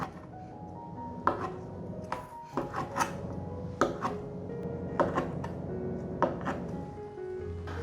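A knife slices five-spice dried tofu on a cutting board, giving an irregular series of crisp taps and thuds at close range in a quiet kitchen with no talking.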